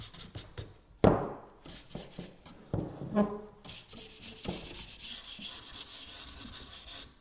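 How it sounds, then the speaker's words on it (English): A wooden IKEA stool is rubbed down by hand with a sanding glove, making close, scratchy strokes with a few knocks early on, then a steady, continuous rasping scrub toward the end, with no talking. "using my sandy hand sanding glove"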